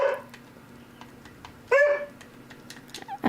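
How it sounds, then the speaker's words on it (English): A pet dog barks briefly in a home near a computer during a Minecraft session, a short close burst in the middle and another at the end over quiet room noise and faint typing. "I'm sorry if my dog is making your dog bark."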